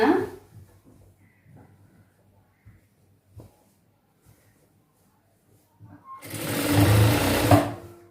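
A sewing machine stitches a chudidhar top in one loud burst of rapid whirring near the end, after quiet moments of faint handling and speech.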